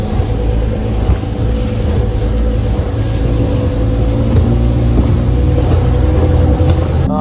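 A small battery-powered mini boat's motor runs steadily in the water, a loud continuous buzzing drone with no pauses throughout.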